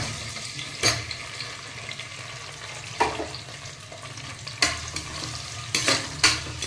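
Chopped onions frying in a pan for a ghee-and-butter vegetable biryani, giving a steady low sizzle with occasional sharper scraping stirs from a spatula, heard close and alone.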